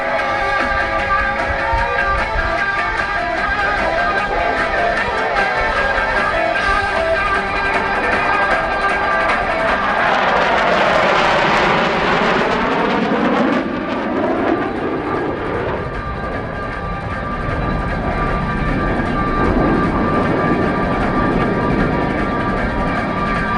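Several U.S. Navy Blue Angels jets in Diamond formation roar past at an airshow, a loud sweeping pass that swells to a peak with a falling Doppler pitch before trailing off into steady engine rumble.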